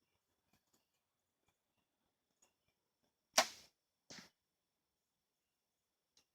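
A quiet Gearhead Archery bow looses an arrow with one short, sharp whoosh, followed a moment later by a softer thud as the arrow strikes a pine tree branch, all in otherwise near silence outdoors.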